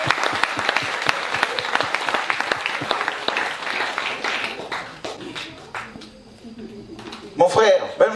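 A church congregation in Taravao, French Polynesia, bursts into loud, sustained applause and cheering at a service. Dense clapping fills the first five seconds, then fades into scattered claps and crowd noise as a voice speaks near the end.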